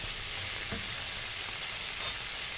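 Onions sizzle steadily in a pan on a gas stove, a continuous close, even hiss of frying with no talking.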